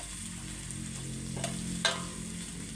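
Baguio beans stir-frying in a pan for pansit, a constant close sizzle with a couple of brief scraping stir sounds, no voices.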